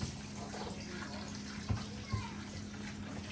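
Raw pork being washed under a running tap, a steady broad rush of water over the whole stretch with a couple of brief thumps of handling, close by in a home kitchen.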